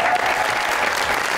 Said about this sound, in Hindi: ढेर सारी तालियां